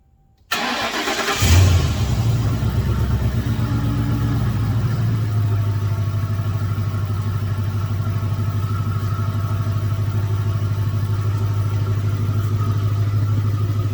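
A 2008 Crown Victoria Police Interceptor, left sitting for months, cranks over and catches, then settles into a steady, loud idle that runs alone for the rest of the time.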